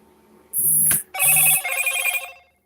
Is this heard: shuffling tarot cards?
no